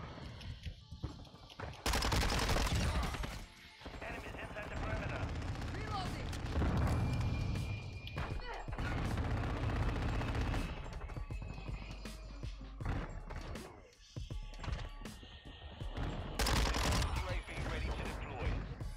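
Shotgun blasts in a first-person shooter video game, heavy booming shots in close, loud bursts that recur across the stretch amid dense combat noise and a short quieter gap.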